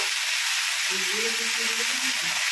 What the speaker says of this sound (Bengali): ভেন্ডি আলু পেঁয়াজ সব একসঙ্গে দিয়ে দিয়েছে, দিয়ে নাড়াচাড়া করবে